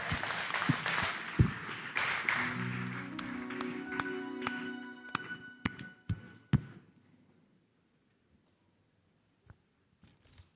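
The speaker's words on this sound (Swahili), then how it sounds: "Apigie ni makofi." A church congregation at a Kikuyu-language service claps, with dense, uneven hand claps and some sustained musical tones underneath, then the clapping stops abruptly after about six seconds, leaving near silence.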